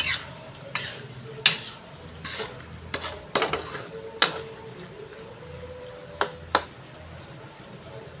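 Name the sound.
stir-frying shrimp paste (alamang) in oil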